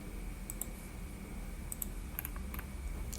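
Scattered keystrokes on a computer keyboard while entering a command in a terminal, a few light clicks in small bursts over a steady low background hum.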